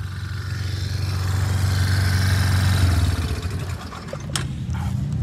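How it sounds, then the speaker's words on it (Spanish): Motorcycle engine idling up close with a steady low rumble, loudest for the first three seconds, then easing slightly with a brief sharp click near the end. "Esta es la moto que traigo hoy."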